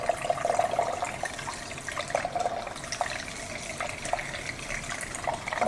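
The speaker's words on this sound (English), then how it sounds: "fill it with clean water" Water pours steadily from a tap into the bowl of a Danielle makeup brush cleaning system, a continuous splashing gush at close range with no voices.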